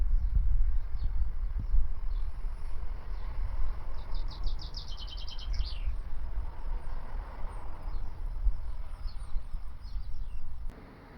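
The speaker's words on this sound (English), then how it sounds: "Birds are singing." Birds sing outdoors around a sunny observing spot, a quick bright trill of repeated chirps rising out of a steady low outdoor rumble, with a few scattered faint calls elsewhere.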